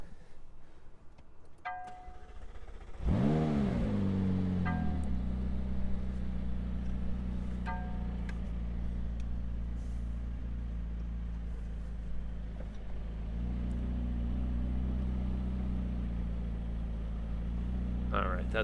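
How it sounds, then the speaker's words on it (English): A 2019 McLaren 570S Spider starts up with a sharp bark and settles into a deep steady idle, then creeps a short distance forward, the engine humming low and close with a slight swell late on. "I'm gonna hop in the car and move it just a bit forward"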